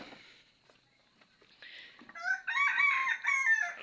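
A chicken clucks and calls loudly near the end after a quieter start with faint scratchy sounds, the bright repeated cries building over the last second and a half.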